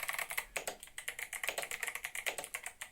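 Fast, steady typing on an 8BitDo Retro Mechanical Keyboard, with every key fitted with the same switch, gives crisp close-up clacks in a quick, uneven rhythm with no voices.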